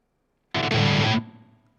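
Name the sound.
guitar through IK Multimedia TONEX pedal, reverb toggled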